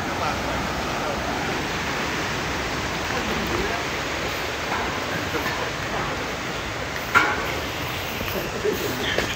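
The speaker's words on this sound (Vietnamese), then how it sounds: "Suối trong rừng sâu Đà Bắc Hòa Bình" A forest stream deep in the woods of Da Bac, Hoa Binh, Vietnam, roars as a constant, even broadband rush for nine seconds, with a faint brief knock near the end.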